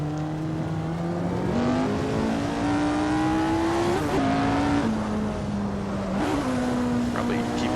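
A Lotus 49 race car engine in Assetto Corsa drones continuously, its pitch climbing through gears then dropping on downshifts, loud and steady throughout.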